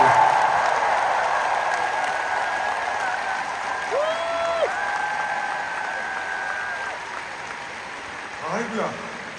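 A concert audience applauds the band at the end of a Seoul tour show, a broad, steady roar of clapping that slowly fades, with a few brief cheers and faint tonal noises over it.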